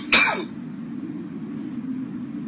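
A single short cough bursts out close by at the start, then fades into a steady low hum of room noise.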